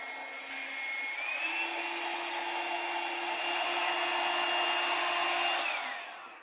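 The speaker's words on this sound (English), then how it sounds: "this is my little hairdryer" A small handheld hair dryer blows steadily at close range, a smooth whirring hiss with a faint motor whine that rises slightly in pitch, then cuts off at the end.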